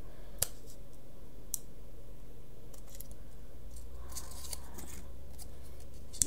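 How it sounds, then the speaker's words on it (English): Scissors trim a paper heart close by, with a few sharp snips and clicks against a faint steady background hum. "what I could do is just trim this one a bit and make it roughly the same size"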